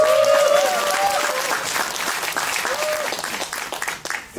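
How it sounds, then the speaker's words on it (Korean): An audience at a book concert event gives loud, sustained applause to welcome a speaker, steady clapping that gradually thins toward the end, with a voice audible over it. "네, 여러분 큰 박수로 환영해 주세요."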